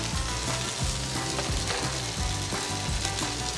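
Food sizzling on a Blackstone griddle for a Thanksgiving dinner, a continuous close, loud fry with scraping and clacking of a spatula against the flat-top in a busy rhythm.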